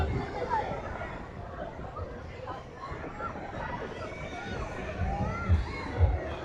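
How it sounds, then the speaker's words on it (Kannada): A crowd of people at Baga beach in Goa makes a steady murmur of chatter and distant voices, with children shouting now and then and a few louder bumps near the end. "ಒಳ್ಳೆ ಕ್ರೌಡ್ ಇದೆ."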